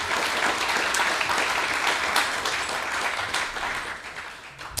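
A temple crowd at an ISKCON gathering breaks into sustained, dense applause that fades slightly toward the end, a full room of clapping hands.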